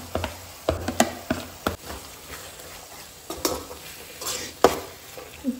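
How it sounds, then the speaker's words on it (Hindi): Marinated mussels hit a pan of sizzling tomato masala, giving steady frying sizzle broken by sharp clatters of a spoon stirring against the metal pan, with no talking. "अब हम ना इसमें हम डालेंगे हमारे मैरिनेट करके रखे हुए शिनाने।"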